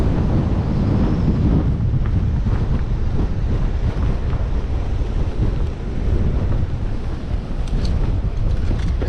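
Strong east wind blowing across a beach at Port Edward, buffeting the microphone in a loud, continuous roar with surf washing underneath, steady for the whole stretch.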